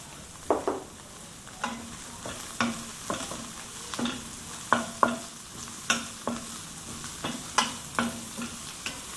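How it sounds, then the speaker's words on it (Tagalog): Garlic and onion sauté in oil that was used earlier to fry milkfish, a soft steady sizzle broken by regular scrapes and knocks of a spatula against the pan, about one stroke every second. "Ayan, ginigisa po natin."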